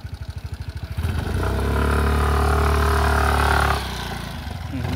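A 150cc Aprilia motorcycle on a rough off-road track to Tindhara waterfall putters in rhythmic close pulses, then revs hard into a loud, straining sustained roar before easing back to a lower throb.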